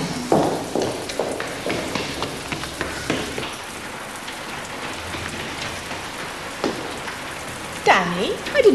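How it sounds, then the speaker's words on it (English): Steady rain pours down outside a school, a constant hiss with drops pattering on hard surfaces, while people talk and move close by. "How long's it been raining?"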